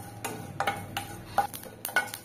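Whole spices, cinnamon, cloves, cardamom, stone flower, fennel, cumin and coriander, dry-roast over a medium flame in a kadai while a metal spoon stirs and scrapes them, giving a run of sharp, close, irregular clinks and scrapes.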